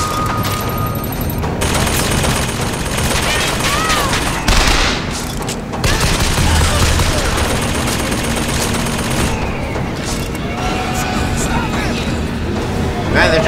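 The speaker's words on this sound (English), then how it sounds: "Geez, there are machine guns everywhere." Dense machine gun fire rattles almost without pause in a video game, mixed with booms and crashes, with a voice talking over the shooting.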